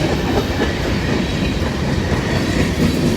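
A CSX local freight train rolls past heading to a steel mill, a loud, steady rumble of wheels and railcars with faint clickety-clack, close and continuous, with no voices.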